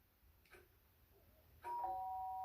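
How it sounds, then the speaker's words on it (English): A doorbell rings in the video game Danganronpa: a faint chime at first, then a clear, sustained ringing tone over quiet background noise. "did I hear the doorbell?"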